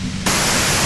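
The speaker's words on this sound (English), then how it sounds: "you can do it through the white noise" Radio white noise static in the video game Disco Elysium cuts in abruptly after a brief quieter moment, then holds as a loud, even, full-band hiss.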